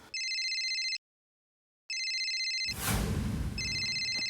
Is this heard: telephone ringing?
yes